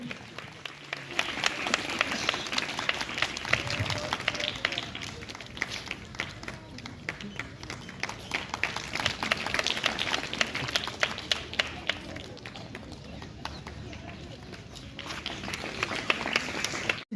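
Steady audience applause for a speaker at a small village school's Republic Day event in Vaghnagar, dense clapping continuing for many seconds at moderate distance.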